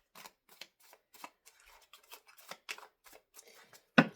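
A small, fragile deck of tarot cards shuffled gently by hand, giving a run of soft, quick papery riffles and flicks that end in one sharper snap near the finish.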